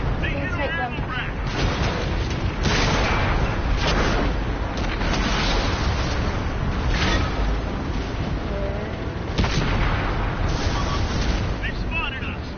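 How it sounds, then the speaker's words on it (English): In World of Tanks, a tank's ammo rack explodes with heavy booming blasts and rumbling detonations that fill the scene, loud and dense, with voices talking over the din. "They hit our ammo rack."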